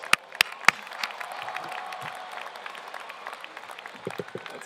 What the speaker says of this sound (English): Can you guys give yourselves a round of applause